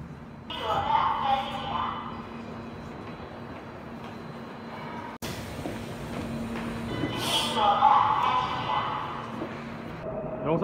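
A subway train rumbles through a station in Korea, rising and falling in loudness as it passes close by and moves on, and a voice speaks over it.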